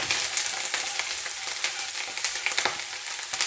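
Garlic and onions sauté in a hot pan with a steady, close sizzle. Small crackles and pops run throughout, with no talking.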